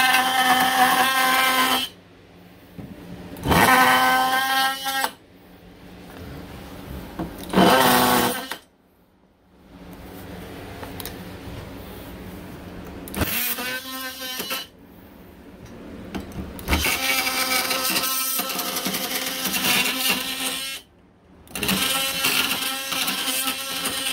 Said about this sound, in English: It's like a power chisel.